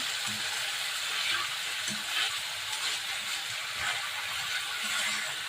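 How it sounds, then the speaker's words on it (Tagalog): Four chicken pieces sautéing in a pan for adobo, giving a steady, dense sizzle and hiss that runs continuously and close, with faint stirring knocks underneath and no talking. "ilalagay na natin yung chicken. 4 na piraso lang yan, guys. Ayan. Igisa natin na."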